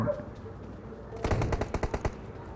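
Rapid bursts of video game gunfire crack out after a quiet, low-level stretch, with several sharp, evenly spaced shots close and loud.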